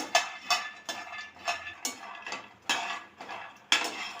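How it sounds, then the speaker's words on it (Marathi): Peanuts dry-roast in a pan for a sesame-jaggery flatbread, rattling and clattering against the metal in rhythmic bursts roughly every half second as they are tossed and stirred, close and clear with no talking. "आता शेंगदाणे आपल्याला खमंग खरपूस होईपर्यंत भाजून घ्यायचे"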